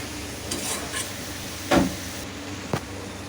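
Turmeric and spices sauté in hot oil in a pan, giving a steady low sizzle broken by a few sharp scrapes of stirring.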